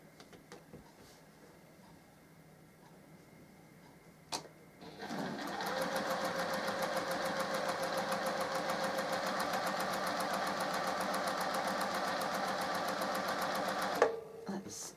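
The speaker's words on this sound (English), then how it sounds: "you let your machine take the fabric through" A sewing machine runs steadily for about ten seconds, stitching fabric for a Birds in the Air quilt block, its rapid even needle rhythm loud and close after a few quiet seconds with brief talk before it starts.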